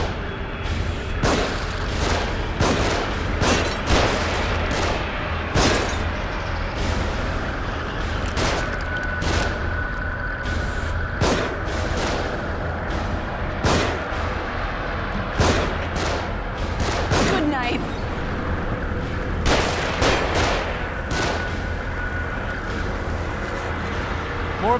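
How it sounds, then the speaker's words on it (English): Repeated gunfire coming from above in the video game The Evil Within, sharp shots cracking in irregular bursts over a steady rumbling backdrop for the whole stretch, some close and loud, others more distant. "They're shooting from above."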